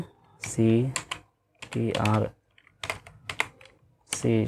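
Computer keyboard typing during an HTML coding lesson: scattered key clicks sit under a person talking in Bengali, with the voice dominating and the typing heard in short bursts between phrases.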